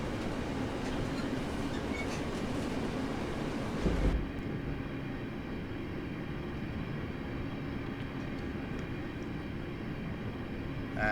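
Class 323 electric train on the Birmingham Cross City line in Train Simulator, a steady rumbling run with dense wheel and motor noise that suddenly drops to a quieter, duller interior hum partway through.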